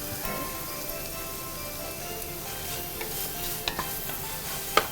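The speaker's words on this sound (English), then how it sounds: "And then we can add the garlic." Garlic tossed into onions sweating in a pan on a home stove, giving a steady soft sizzle with a spoon stirring and scraping, a couple of sharper clicks near the end, no talk.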